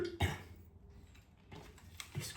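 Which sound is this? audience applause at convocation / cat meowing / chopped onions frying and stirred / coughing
coughing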